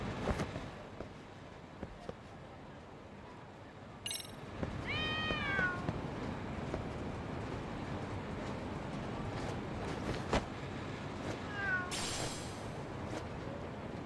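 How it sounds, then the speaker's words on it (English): Cat meows from the video game Lost Judgment, a few short rising-and-falling calls heard clearly over a steady game background of ambient noise. "Oh, it's a kitty."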